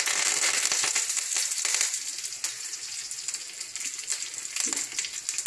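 Mustard seeds, cumin and curry leaves sizzling and popping in a spoonful of hot oil for sambar tempering, a loud dense crackle with sharp pops that eases slightly toward the end.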